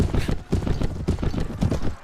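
Rhythmic hoofbeats of a galloping horse in the video game Mount and Blade, a steady, fairly loud clip-clop pattern that repeats in quick groups.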